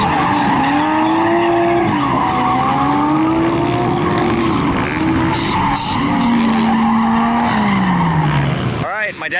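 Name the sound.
turbo Subaru BRZ drifting with tires squealing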